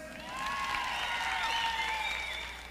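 Women in a live rock concert audience applaud loudly and continuously, with high-pitched cheers and shouts carried over the steady clapping.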